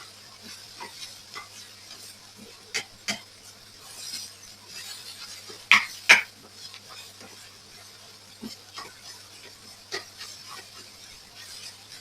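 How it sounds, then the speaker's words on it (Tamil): Vegetable fried rice with salt being stirred in a pan, soft scraping and tossing strokes at irregular intervals over a faint low sizzle, with a couple of sharper clatters midway. "போட்டு நல்லா கலந்து விட்டுக் கொள்ளுவேன்"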